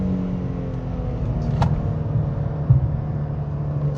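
An Infiniti G37 pulls in third gear after a downshift from about 75, giving a steady, droning engine hum under constant road rumble, heard from inside the cabin.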